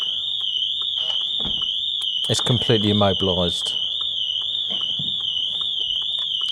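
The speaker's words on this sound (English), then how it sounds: "The alarm system is now going off because it cannot detect the tag." Steady high-pitched electronic alarm tone from a 2020 Audi TT RS aftermarket alarm and immobiliser system, sounding continuously throughout, with someone talking over it in the middle.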